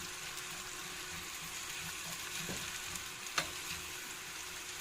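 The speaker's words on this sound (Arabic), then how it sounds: "انا هسيبها تتحمر شويه" Potatoes sizzle and crackle steadily in hot oil in a home kitchen, a continuous frying hiss with a few louder pops and spits, close and fairly quiet, with no talking.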